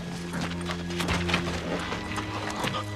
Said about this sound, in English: That's Jethro's horse.